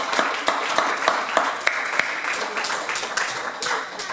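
Applause for the Lord fills a church congregation, a dense steady clatter of many hands clapping with sharp individual claps standing out, sustained throughout at moderate loudness.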